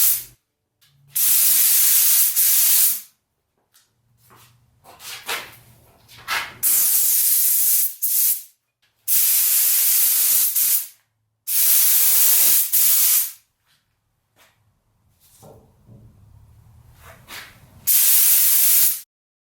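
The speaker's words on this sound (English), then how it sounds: "be spraying on Shellac, which is an alcohol-based finish" Alcohol-based shellac sealer is sprayed onto wood in a series of about six sharp, loud hissing bursts. Each burst lasts one to two seconds and is separated by short silent pauses, with faint handling noises between them.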